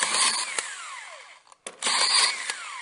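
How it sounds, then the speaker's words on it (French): A power screwdriver drives screws through plasterboard into metal ceiling furring rails, with two whirring bursts separated by a brief pause, each showing a falling motor pitch, loud and close. "maintenant je visse la plaque sur les fourrures."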